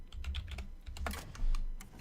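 Rapid clicking of keys on a computer keyboard while typing up a Reno deck, a close, continuous patter of keystrokes with no voices.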